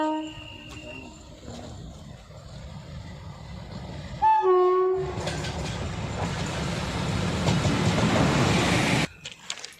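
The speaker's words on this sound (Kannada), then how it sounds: "ಅಲ್ಲಿ ಟ್ರೈನ್ ಬರ್ತಾ ಇದೆ ಟನಲ್ ಒಳಗಿಂದ" A train's low rumble builds as it emerges from a tunnel through a hill, then its horn blares twice before a loud, steady roar of passing wagons fills the scene and cuts off abruptly.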